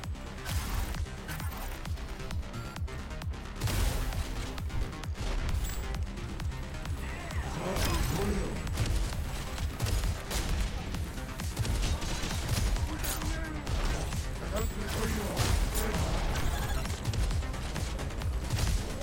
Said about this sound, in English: One shot will trigger the explosion with a delay, and the second shot will instantly trigger the explosion